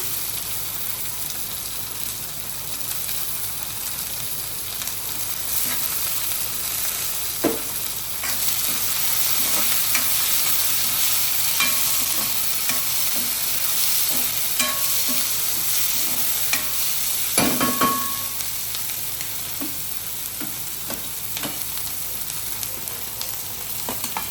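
Tomato and capsicum stir-frying for upma, a continuous close sizzle with repeated scraping and clinking of a spoon against the pan, and one louder knock partway through.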